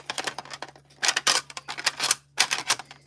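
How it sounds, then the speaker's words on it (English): Graded trading card slabs, hard plastic cases holding cards such as a grade-10 Houndstone, clinking and clacking together in a series of sharp, close taps and rattles with short pauses between bursts. "you like the sound of those clinkings?"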